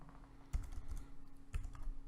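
Typing on a computer keyboard in a quiet room, soft faint key taps with two slightly sharper strokes about a second apart over a low hum.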